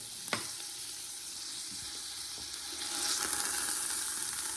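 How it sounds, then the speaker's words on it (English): Rolled braciole browning in a pan for Italian Sunday sauce, a steady close sizzle that swells louder toward the end, with one sharp clink near the start. "Now, let's go brown our braciole."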